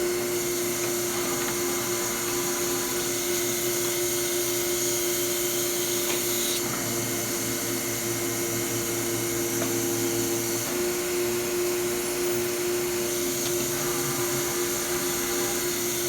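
A Kolbus DAS case maker machine in a bindery finishes its cycle with a steady, loud mechanical whine and hum, punctuated by a few faint clicks and knocks.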